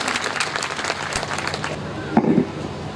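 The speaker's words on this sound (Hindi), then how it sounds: "जोरदार तालियां बजाए" A crowd at a tribal cultural unity gathering in Udaipur claps for a young girl. The applause is steady at moderate loudness for about two seconds, then fades as a brief voice cuts in.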